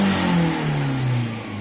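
One more sharp, loud rev comes from a Lada Granta 11182 engine with an electronic throttle, its pitch sweeping up and then easing down, close by.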